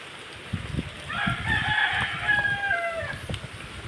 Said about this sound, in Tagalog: Oh, itong manok.